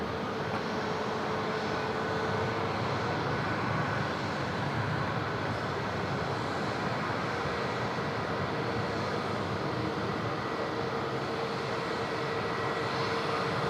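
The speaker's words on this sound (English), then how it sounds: "Big Air New Zealand taxiing southbound as well on taxiway Bravo. Runway 34 left, clear for takeoff." Steady, loud roar of an Air New Zealand A321neo jet taking off on runway 34 left at Sydney Airport, engine noise holding constant throughout with no talk.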